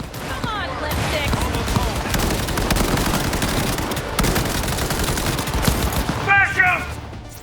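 Rapid automatic gunfire and bursts of shooting fill a combat scene in the video game Cyberpunk 2077 on hard difficulty, loud and sustained for several seconds, with brief electronic chirps from the game mixed in.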